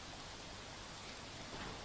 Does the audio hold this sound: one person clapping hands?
no